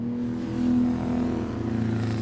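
A pre-war Nash 2 litre sports car, four- or six-cylinder, races past on a circuit at a historic motor racing festival, its engine droning steadily and swelling slightly as it nears, with no talk.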